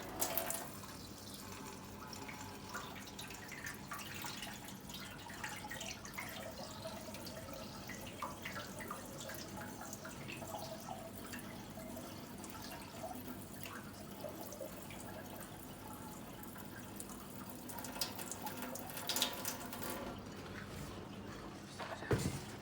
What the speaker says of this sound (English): So I'm gonna pour some more water out there.